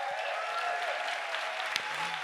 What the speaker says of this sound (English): Please give a big applause for sound and light.